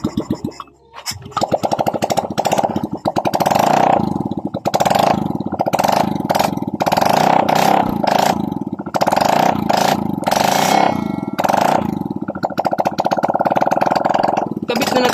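A Honda Click 125 fi motor scooter engine starts and runs loudly up close, idling with a rough, rapid chug and repeated revving surges.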